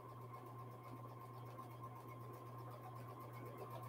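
A sewing machine stitches a quilt seam in a jelly roll race, a steady continuous mechanical hum with fast rhythmic needle pulsing, close and even throughout.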